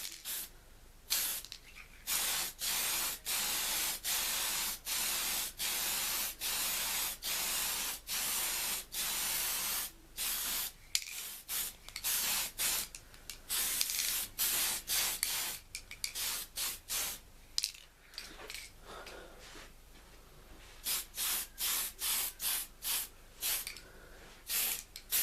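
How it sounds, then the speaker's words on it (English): Primer sprayed onto a B-29 bomber scale model, heard as a close, loud hiss in long even bursts with short gaps, going on steadily and becoming choppier and shorter near the end, with no voices. "Let's quickly give it a coat of primer."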